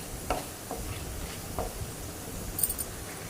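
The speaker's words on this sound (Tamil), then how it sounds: "நல்லா வறுத்துக்கோங்க." Ingredients for tomato chutney frying and being stirred in a pan, a soft steady sizzle broken by light scrapes and clinks of a utensil, close and without talk.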